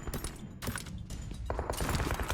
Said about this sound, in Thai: เสียงปืนอยู่บนเนินนะครับ ไกลๆเลย